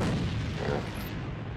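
Gunfire from a competitive team shooter scrim echoes behind a wall, a dense rumbling boom with no clear separate shots, steady and fairly loud throughout.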